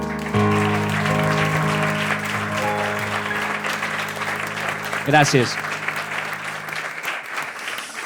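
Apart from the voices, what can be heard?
applause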